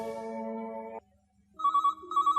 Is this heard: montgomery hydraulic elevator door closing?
no